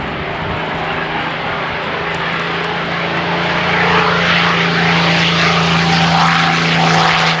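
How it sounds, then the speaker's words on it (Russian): A restored Ilyushin Il-2 attack aircraft's propeller engine roars as the plane takes off from an airfield, a loud, steady drone that swells as it gathers power. "и штурмовик оторвался от земли."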